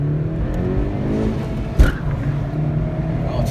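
A Honda Civic Sport hatchback with a turbocharged engine pulls under acceleration, a steady close engine drone heard from inside the car with one brief thump partway through.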